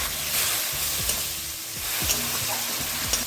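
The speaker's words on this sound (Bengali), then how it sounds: "এখানে আমি সামান্য একটু জল দিয়ে দিচ্ছি যাতে মশলাটা পুড়ে না যায়" A small splash of water hits spice paste of cumin powder and red chili powder frying in a pan, giving a steady close sizzle with soft scraping stirs and no talk.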